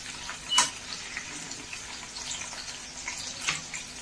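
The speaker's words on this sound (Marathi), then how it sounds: "आता ती तेलात आपल्याला फ्राय करून घ्यायची." Green chilies frying in hot oil in a pan give a faint, steady hissing sizzle with a few brief louder crackles, close by and without speech.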